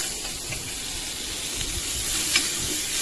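Tomatoes dropped into a pan of browned onions for a chutney sizzle and hiss steadily, with faint stirring scrapes and a soft spatter near the end, close and continuous with no voices.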